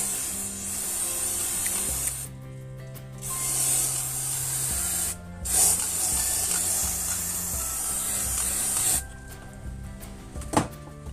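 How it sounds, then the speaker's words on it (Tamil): Freeze spray hisses out of a can in long continuous bursts onto a Pioneer VSX-D938TX AV receiver with a no-power fault, pausing briefly between them, close and steady, with a few clicks and handling sounds. "ஓகே, இப்போ ஃப்ரீ ஸ்ப்ரே அப்ளை பண்ணியாச்சு"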